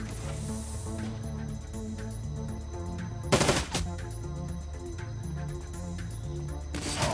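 Automated turrets fire in sustained bursts during an Overwatch match, a dense rattle running under layered game music with a louder burst of impacts midway.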